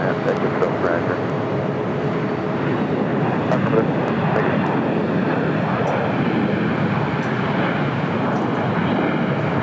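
A LATAM Cargo Boeing 767-300ER in special livery taxis at LAX, its steady jet engine whine and rumble filling the background from a moderate distance while a person talks over it.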